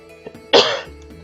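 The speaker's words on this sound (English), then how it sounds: "Why am I coughing?" A single short, harsh cough close to the mic, preceded by a small throat sound, from the game Stardew Valley.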